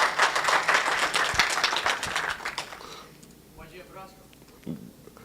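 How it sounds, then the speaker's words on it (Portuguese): Audience applause at a tech talk about NES hacks, a dense burst of clapping that fades after about three seconds, leaving a presenter speaking quietly. "Gente, palmas para o Valdir, por favor."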